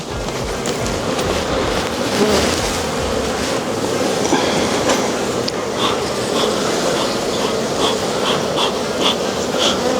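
Honeybees buzz steadily and fairly close during a hive inspection, a dense continuous hum from a swarm being shaken off a frame back into the hive, with no talking over it.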